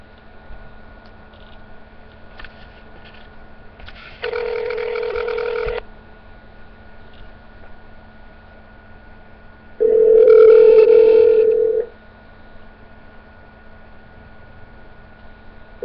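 Two steady telephone dial-tone bursts on a phone line, each lasting about two seconds and separated by a few seconds of quiet line hiss, with no talk.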